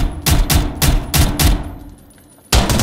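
Rapid gunfire bursts in the tactical shooter game Zero Hour, loud and close, a string of repeated shots followed by a short lull before firing resumes, with no talking over it.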